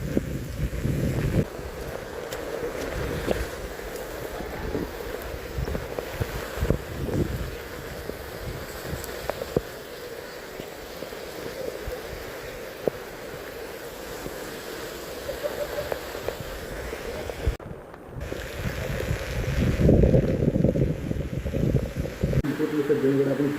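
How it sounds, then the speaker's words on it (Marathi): Heavy monsoon rain with strong gusting wind at Sajjangad fort, a steady broadband rushing roar with buffeting wind noise on the microphone that swells louder near the end, no talking. "एकदम जोरात पाऊस चालू आहे."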